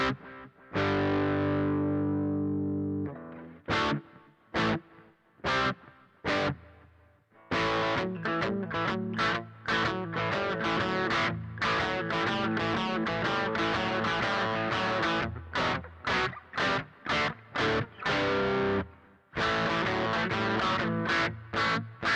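Electric guitar riff played through a distorted amp channel, loud and thick with sustained chords and choppy stops, some held notes ringing out, with no talking over it.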